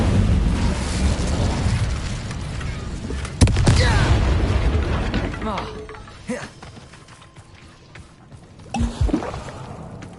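Incendio fire spell cast in Hogwarts Legacy on PS5, heard as a loud burst at the start of a dense rumbling game mix, with further sharp whooshing hits and a bright flare near the end.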